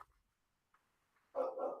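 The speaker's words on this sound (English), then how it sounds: "sorry if you listen my dog barking" A dog barks indoors, one or two short, moderately loud barks near the end after a quiet stretch.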